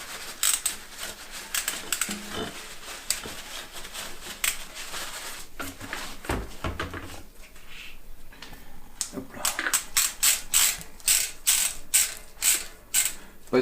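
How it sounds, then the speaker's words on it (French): A bicycle freehub body ratchets as it is spun by hand during a cassette and chain change, giving rapid bursts of close, crisp metallic clicking with short pauses between runs. "On en profite pour checker le corps de roue libre."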